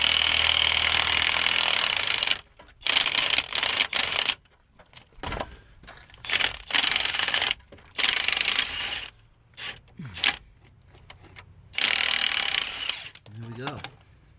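Wrench work loosening a Saab 9-5 strut mount nut, with loud, harsh mechanical bursts of a few seconds each separated by short pauses, close up, with brief faint sounds between the bursts.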